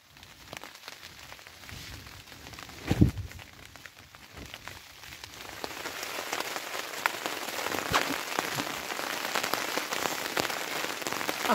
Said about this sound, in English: Getting a little bit of a rain test tonight.